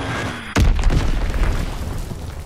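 An enemy bomb from an aircraft strike in Call of Duty WWII, on the Gustav Cannon map, lands with one heavy, close boom and a low, rumbling tail over steady battle ambience.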